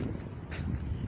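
Squally wind blasts outdoors in Pyatigorsk, a constant rough roar buffeting the microphone with low rumbling gusts.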